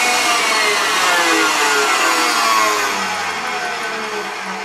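A KitchenAid stand mixer's motor whirs loud and close, its steady whine gliding downward in pitch as it slows to the lowest speed.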